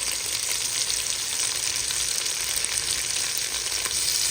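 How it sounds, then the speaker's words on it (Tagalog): Onion, garlic, ginger and chicken sautéing in a pan give off a steady, close, moderately loud sizzle with crackling spits throughout, and nobody speaks. "nilagay natin ang ating sibuyas. Igisa po natin together with our bawang at saka luya at ang ating manok."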